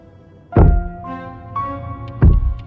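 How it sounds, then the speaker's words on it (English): Two heavy, dull thumps land on wooden floorboards overhead in Slay the Princess, spaced well apart and loud, over a sustained low musical drone. "A thump on the floorboards above, and then another."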